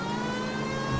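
A car engine hums and whirs steadily as a vehicle is driven through the city in the L.A. Noire video game, with no break in the sound.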